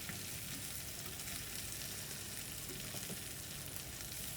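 Chopped okra fries in hot oil in a pan. A faint, steady crackling sizzle runs unbroken through the whole stretch, with no voices over it.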